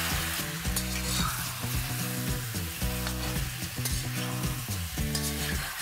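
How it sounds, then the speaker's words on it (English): Garlic paste and ginger paste sauté in a hot pan on high flame, giving a steady, loud sizzle with stirring scrapes and clinks running throughout, close by and without talk. "let's add a tablespoon of garlic paste, a tablespoon of ginger paste, and let's saute it"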